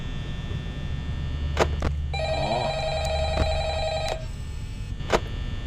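Electronic telephone ring in the horror video game Five Nights at Freddy's, a steady buzzing tone lasting about two seconds, with a few sharp clicks and a low ambient hum underneath.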